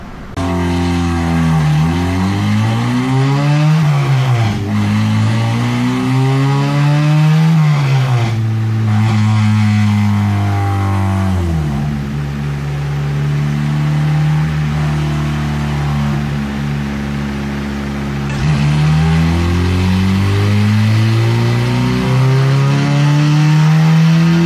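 A Honda K24Z7 engine in an Ariel Atom revs hard on a dyno during a tuning run, loud and close. The steady drone rises and falls through several sweeping pulls with no talk over it.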